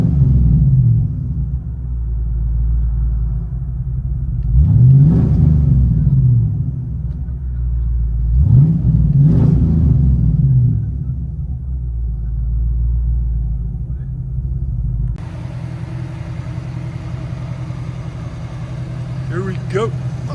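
Heard from inside the cabin, a 1990 Ford Mustang GT with a 5.0L V8, SLP Loudmouth exhaust and high-flow cats idles with a deep, steady rumble, swelling twice in rev-like surges, with faint talk in the background.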